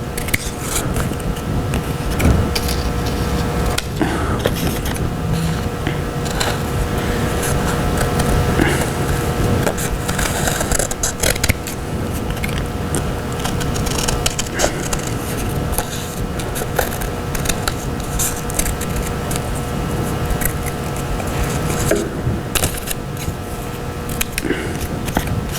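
Scissors cut through two layers of paper, shaping a pet's shadow silhouette: steady close snipping and rustling paper run throughout with no pauses.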